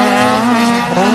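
Red toy race car giving out a loud, continuous electronic engine whine with a steady tone, close and alone, lasting about a second.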